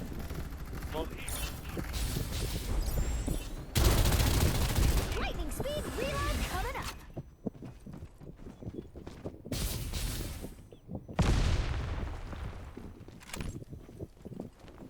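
Rapid gunfire bursts and clattering mechanical gear noises in the shooter video game Farlight 84, dense and loud in several sections with brief quieter gaps between them, mixed with footsteps and a person talking.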